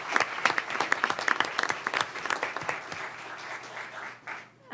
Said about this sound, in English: can I have a big round of applause for her?